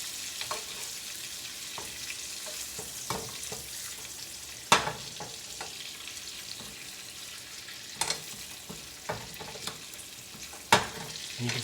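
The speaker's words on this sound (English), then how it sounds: "And take that hot butter, drip it over the top." Goat chops sizzle and fry steadily in a pan as hot butter is spooned over them, with a continuous bright crackle and occasional sharper spits and pops close by; no one speaks.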